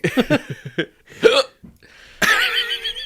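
Repeated hiccups from a person, a quick burst of several sharp, close hiccups followed by a few more spaced out, with a strained vocal sound at the end.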